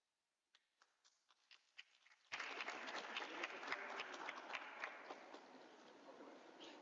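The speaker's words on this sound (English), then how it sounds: "Can we have a round of applause, please?" Scattered claps at an event build quickly into full audience applause that holds steady and then slowly tapers off.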